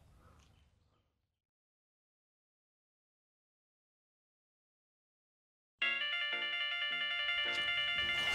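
An electronic phone ringtone from an incoming call plays as a loud, bright, repeating melody that starts abruptly after a long silence and continues to the end, with a faint voice heard briefly at the start.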